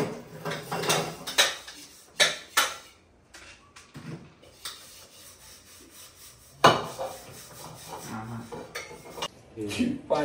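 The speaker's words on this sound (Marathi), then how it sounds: "आवरा लवकर भांडी घासा." Dishes and pots being scrubbed and washed in a home kitchen, with bursts of rubbing, scraping and clattering utensils separated by short pauses, close and moderately loud.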